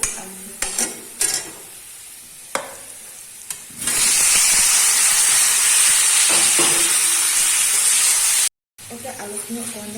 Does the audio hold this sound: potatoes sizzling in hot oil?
yes